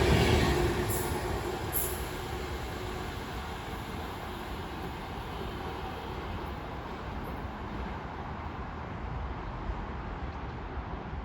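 A Class 390 electric train running from Longsight to Wembley passes through Milton Keynes Central station with a steady, loud rumble of wheels and rail noise lasting throughout, with no voices.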